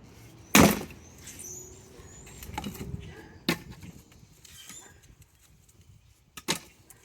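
A Fiskars X27 axe splits wood, landing a few sharp, separate strikes several seconds apart, with softer knocks and rustling in between.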